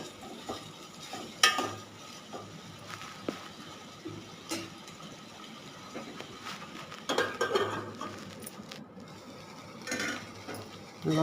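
A spoon stirring drumstick milk curry with ginger paste in a pan, scattered scraping and clinks against the metal over a soft simmering sizzle, with a few louder knocks.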